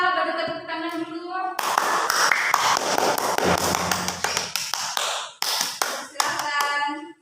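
Students in a classroom clap their hands together in a dense burst of claps lasting several seconds, with voices speaking briefly before and after.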